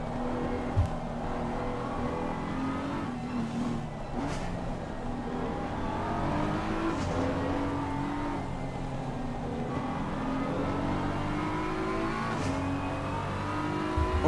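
A BMW race car in a sim racing endurance game at Paul Ricard, heard onboard: a loud, continuous engine note rising and falling through upshifts and downshifts, with occasional tire scrub.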